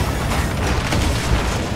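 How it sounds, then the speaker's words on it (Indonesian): Explosion in the Battlefield 4 video game, a continuous loud, rumbling boom with dense low-end roar sustained throughout, no speech over it. "Oh, ada ledakan ya di sana kan?"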